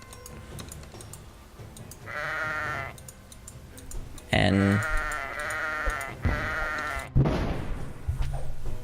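Repeated sheep bleats, several in a row, in the video game Kingdom Rush, mixed with game sound effects and a brief spoken word.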